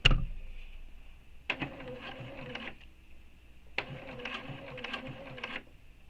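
A BERNINA sewing machine topstitches fabric at a 3.5 stitch length, running in two steady mechanical bursts of a couple of seconds each, separated by a quiet pause. The sound is close and clear with no voices over it.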